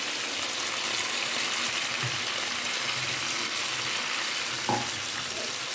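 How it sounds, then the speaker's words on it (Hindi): A glass of water is poured into chicken korma frying in a pot, producing a steady, fairly loud hiss and sizzle with a brief splashing burst near the end and no talking. "अभी हमने इसमें 1 गिलास पानी का भर के डालना है।"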